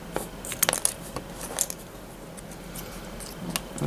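Scissors snip washi tape into small tabs, a few sharp, faint clicks and cuts scattered over a low hiss, close by and without talk.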